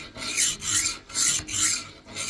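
A Winklez rolling knife sharpener grinds a knife edge on coarse grit in five rhythmic back-and-forth rasping strokes, close and loud with no talking.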